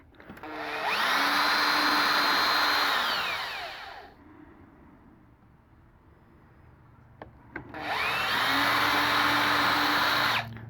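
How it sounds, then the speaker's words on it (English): A power drill whines at high speed drilling holes in a DIY soap mold for several seconds, stops, then runs again in a second long burst, close and loud. "I'm going to drill these out just in case I"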